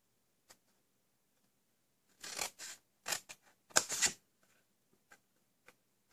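Scissors snip through the cardboard sides of a small handmade desk tidy, a few quick close crisp cuts in short clusters with quiet pauses between, no talking.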